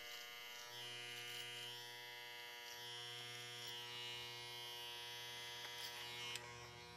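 Electric hair clippers running steadily while tapering hair around the ear during a classic business cut, a continuous close buzz with a slight pitch wobble and no talking.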